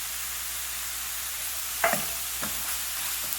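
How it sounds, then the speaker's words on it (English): Tomatoes, garlic and green onions stirred into a gumbo pot, a steady sizzling hiss broken by a few sharp spoon scrapes and knocks against the pot near the end. "we're going to stir these together until all of our vegetables have become softened"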